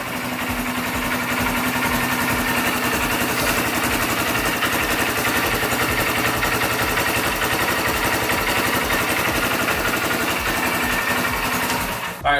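Honda dirt bike engine left running to warm up, a steady loud rapid-firing idle chatter that continues unchanged up close and cuts off at the end.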